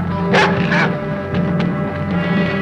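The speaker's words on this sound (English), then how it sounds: "this was not a police dog, as I claimed in the episode on the negligent nymph, but rather a private Doberman watchdog" A private Doberman watchdog barks in a couple of loud, close bursts, followed by fainter yips, over a steady low hum from an old television drama soundtrack.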